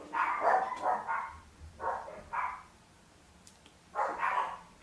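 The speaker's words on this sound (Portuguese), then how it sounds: "Cachorros latindo" Several dogs bark in short clustered bursts, moderately close, with a gap before a final volley of barks, and no talk over them.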